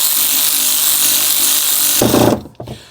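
An electric 3/8 power tool presses a bearing into a powder-coated BMW E36/E46 rear control arm, whirring steadily and loudly up close, then bogging into a heavier grinding burst before cutting off.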